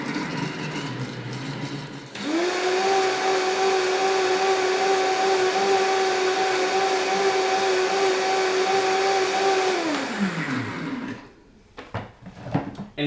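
A blender runs at high speed making nut milk, a loud steady motor whine with a constant pitch held for about eight seconds before spinning down, followed by a few clattering handling noises.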